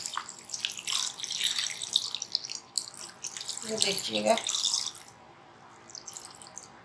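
Water pours steadily into a cooking pot of beef tarka karahi already seasoned with turmeric. A close, continuous splashing rush runs for about five seconds, and a voice speaks briefly over it.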